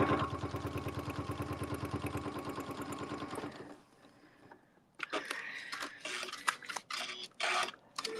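A sewing machine stitches a log cabin quilt panel during ruler-guided quilting, running in a fast, steady rhythmic chatter for nearly four seconds before stopping, then quieter handling clatter and rustling follow.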